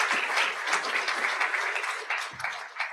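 Steady applause from a convocation audience fills a hall with dense, even clapping that continues throughout at moderate volume.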